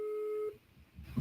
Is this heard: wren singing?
no